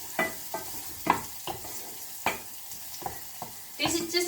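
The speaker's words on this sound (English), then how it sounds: "So we just stir fry garlic and shallots to get the smell" Garlic and shallots stir-fry in a pan for Pad Thai, with a faint sizzle beneath a series of sharp, irregular scraping stirs of the utensil, roughly one every half second, ending in a louder burst of frying.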